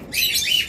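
Lovebirds, a black fischer's lovebird pair among them, give a burst of high, bright chirps and tweets, close and fairly loud, continuous for under a second with no one speaking.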